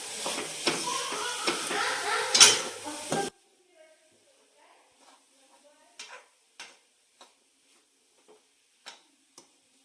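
Modak filling with cardamom powder stirred in a pan, a few seconds of scraping and light sizzling up close, then near silence broken by sparse soft taps and clinks.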